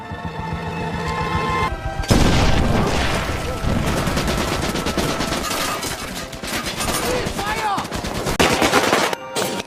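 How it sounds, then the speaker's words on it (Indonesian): Rapid automatic gunfire and bursts of shooting from a Nazi-soldier war film scene, loud and sustained after a brief quieter opening, with machine-gun rattles and occasional heavier blasts. "Bruno pun menyuruh asistennya yang bernama Wolf untuk menembak Atami."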